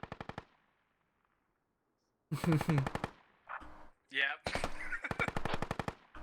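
Military video game gunfire comes as rapid automatic bursts, loud and close, with short gaps and quiet stretches in between, and a voice speaks briefly.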